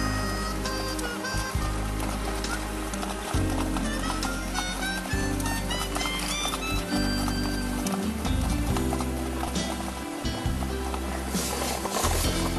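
A horse tölts on ice in winter spiked shoes, its quick, even hoofbeats sounding under prominent music with heavy bass notes throughout.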